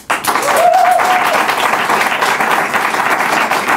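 Loud, dense applause from a live audience at a Spanish comedy show, steady clapping throughout with a brief whistle-like tone near the start.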